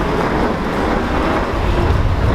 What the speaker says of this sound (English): I've arrived at Paddington Station.